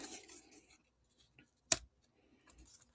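A single crisp snip of scissors cutting a craft piece in half, sharp and close, set apart by quiet pauses with faint handling rustles before and after.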